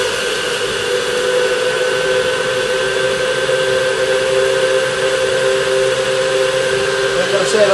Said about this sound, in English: Is that in the NutriBullet now? It is in the NutriBullet. It's a bit loud